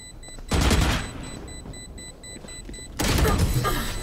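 Gunfire in the tactical shooter Valorant: two loud, sharp bursts of shots about two and a half seconds apart, with a steady in-game background hum in between.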